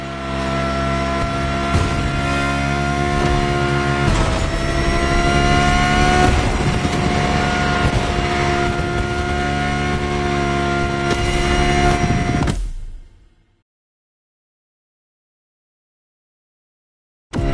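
A 2020 Audi R8 LMS GT2 race car in The Crew Motorfest revs hard and loud, its engine note rising and holding through gear changes for about twelve seconds before cutting to silence.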